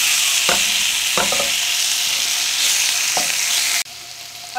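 Pork chops sear in a hot pan with a loud, steady sizzle and crackle close by, broken by a few scraping stirs of a utensil, then the hiss drops in level near the end.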